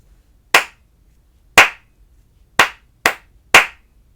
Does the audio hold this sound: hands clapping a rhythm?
yes